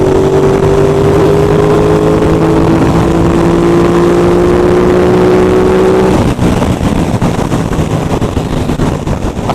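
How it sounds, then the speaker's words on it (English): An Aprilia RS660 sport motorcycle with its stock factory exhaust gives a loud, steady engine drone with a rising tone, then shifts to rougher, windier rumble near the end, heard close with no talk. "that exhaust note's bloody lovely"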